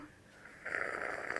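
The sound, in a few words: loud slurping of Starbucks coffee at a tasting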